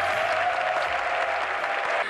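An audience at a military base stage show applauds continuously, a dense steady clapping held at an even level throughout.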